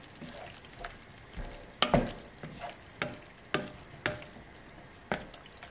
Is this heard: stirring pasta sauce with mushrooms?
yes